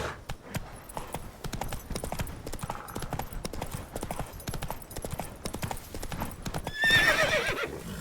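Hooves of the horse Roach galloping in The Witcher 3, a fast, steady clip-clop rhythm throughout with a loud whinny near the end.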